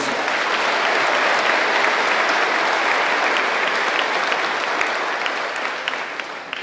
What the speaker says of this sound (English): Let's have another round of applause for our award winners.